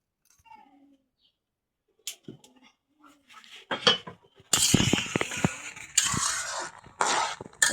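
Eggs being mixed with salt and turmeric in a dish, heard as a quiet start with a few faint taps, then louder clattering, clinking and scraping that comes in bursts through the second half.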